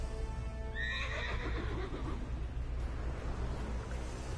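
A Pegasus horse in a Zombies video game gives a loud, close neigh that rises into a shrill whinny and trails off, with hoof clops and a steady game background hum underneath.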